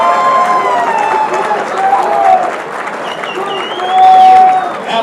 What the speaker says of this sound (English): how about a round of applause for both fighters?